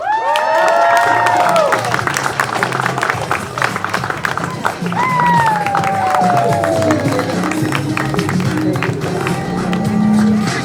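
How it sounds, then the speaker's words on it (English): Wedding guests at a ceremony applaud and cheer right after the couple is introduced as husband and wife, loud crowd noise with clapping and whoops while music plays along underneath. "Have a round of applause."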